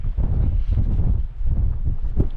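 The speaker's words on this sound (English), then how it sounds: "some windy hurricane thing coming through" Strong storm wind buffeting the microphone out on open Dartmoor moorland, loud rumbling gusts that surge and dip continuously with no voices.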